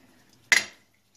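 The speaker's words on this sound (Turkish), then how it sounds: "2 yemek kaşığı biber salçamızı da ve güzelce karıştırıp bir sos elde ediyoruz bundan" A single sharp clink of a spoon against a pan or bowl while stirring olive oil, pepper paste and thyme into a sauce, brief and close with near silence around it.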